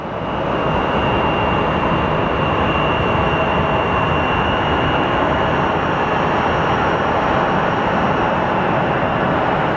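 A small tail-dragger airplane at Sky Harbor Airport produces a steady, loud engine drone with a faint high whine, continuous for about ten seconds with no talking.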